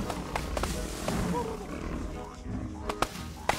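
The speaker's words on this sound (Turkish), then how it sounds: "Kurtlar geliyor." Wolves in the video game Don't Starve Together growl and snarl as they approach, with low rumbling growls broken by several sharp bursts, moderately loud and unaccompanied by talk.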